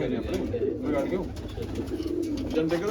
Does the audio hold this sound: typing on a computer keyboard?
no